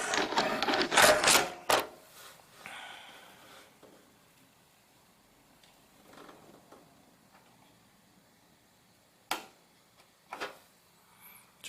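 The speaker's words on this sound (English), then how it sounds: "So the lever is back down, locked into place." A CPU socket's metal retention lever is folded down and locked, giving a cluster of loud mechanical clatter and clicks at the start, then a quiet stretch with a few sharp, isolated clicks near the end.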